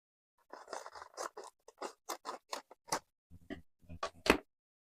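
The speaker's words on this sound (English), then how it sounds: "Pair of scissors." Scissors snip in a quick, irregular run of close, crisp cuts, a dozen or so short clicks and crunches with brief pauses, quiet and alone.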